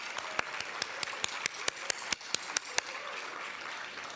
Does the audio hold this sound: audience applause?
yes